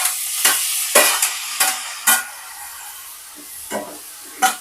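Tomato and capsicum frying in a pan, with a steady sizzle broken by several sharp bursts of scraping as the mixture is stirred, close and fairly loud with no voices.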